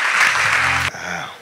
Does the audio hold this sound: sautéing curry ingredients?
no